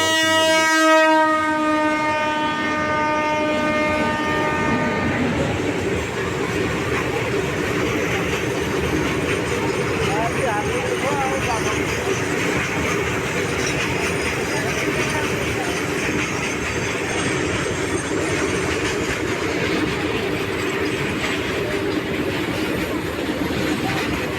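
A train horn blares briefly at the start, then a loud, continuous rumble and clatter of a passing train carries on without a break, near Bali village in Keonjhar district, where a train struck an elephant.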